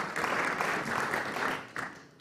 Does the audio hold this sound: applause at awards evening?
yes